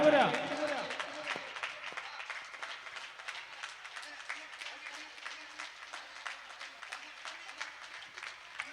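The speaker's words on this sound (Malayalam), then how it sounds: "കൈയടി പോരാ." Audience applause at a family gathering contest, sustained crowd clapping that carries on steadily for several seconds, with a brief burst of voices at the very start.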